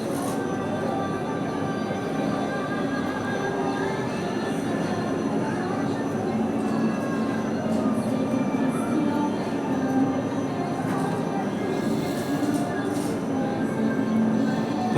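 A tram rumbles and hums steadily through Place de France station in Montpellier, with faint squeals and background voices throughout.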